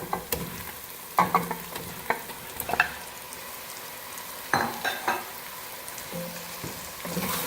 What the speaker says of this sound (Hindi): लहसुन अदरक के पेस्ट के साथ इसको अच्छी तरह से भूनेंगे।